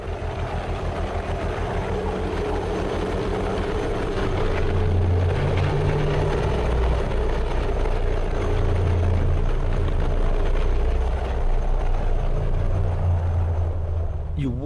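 A rescue helicopter hovering near the Eiger north face, a loud steady rotor and engine roar throughout that swells midway, with a voice speaking over it.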